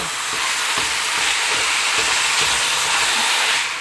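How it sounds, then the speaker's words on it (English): Ground meat for lasagna sizzles loudly in a hot pan, a dense steady hiss with faint periodic stirring strokes underneath, close and uninterrupted. "I just went ahead and put my meat in here. It's sauteed up enough for me."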